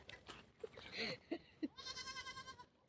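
A goat bleats in a wavering, quavering cry after a few scattered thumps and clatter, fairly faint and close.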